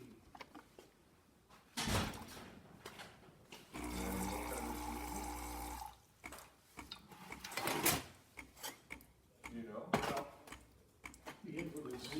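Steam wand on a Starbucks Barista espresso machine with a steaming fault after a full tune-up: a two-second burst of humming pump and hiss sits amid clicks, knocks and handling noises, with people talking around it.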